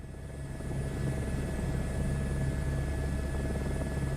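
A helicopter taxiing in Microsoft Flight Simulator gives off a steady, droning engine and rotor hum with a constant low rumble and whine, moderately loud and unbroken, with no talking.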